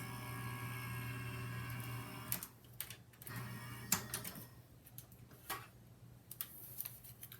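A die-cutting and embossing machine rolls stacked plates through, with a steady mechanical whir that gives way to uneven ticking and clunking knocks, close and moderately loud, with no talking.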